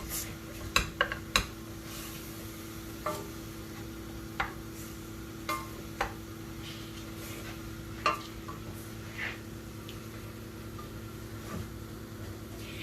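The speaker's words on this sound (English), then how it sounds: "You just got to keep stirring it" Mince being stirred in a pan over medium-high heat, with scattered clinks and scrapes of a utensil against the pan above a steady low cooking hum, close and fairly faint.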